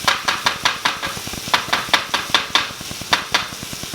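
Kimchi fried rice cooks in a thin-bottomed paella pan, a utensil scraping and tapping in a quick, even rhythm over a steady hiss of frying, close and fairly loud.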